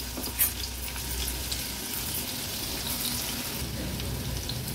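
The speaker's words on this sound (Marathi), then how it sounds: "तेलामध्ये आता 1 हिरवी मिरची अशी चिरून घेतली आहे ती ऍड करूया। 1 टेबलस्पून आलं लसूण क्रश" Green chilli and ginger-garlic paste fry in hot oil with a steady, dense sizzle close by, and a short clatter near the start as they go into the pan.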